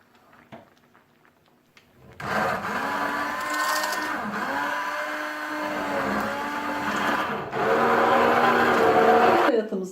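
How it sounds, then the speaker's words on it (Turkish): A kitchen blender purees boiled, softened tangerine peels, starting after a couple of seconds of quiet handling noises and then running loud and steady, its motor pitch dipping and rising as the contents churn. "Şimdi altını kapatalım ve blenderdan geçirelim."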